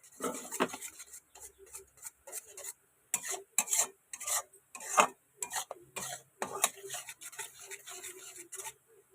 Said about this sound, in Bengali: গ্যাস হালকা আঁচে রাখবেন আর নাড়তে থাকবেন।